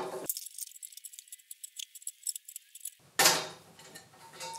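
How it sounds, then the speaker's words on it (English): Tube cutter slicing through copper pipe, a rapid metallic ticking and jangling from the turning wheel, close and fairly faint, ending in a sharper metallic clack. "Good easy tool for cutting copper."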